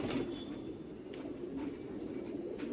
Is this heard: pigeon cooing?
yes